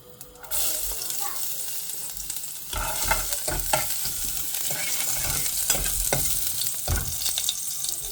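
Chili drops into hot oil for a chicken soup and bursts into a loud, continuous sizzle and crackle, with a utensil scraping and knocking in the pan as it is stirred, close up.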